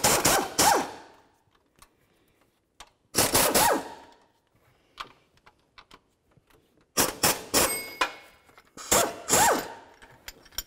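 Ratchet clicking on three 15mm tensioner bolts of a 1999-2007 Chevy Silverado during water pump work, in separate bursts of rapid ratcheting with short pauses and light tool clinks between.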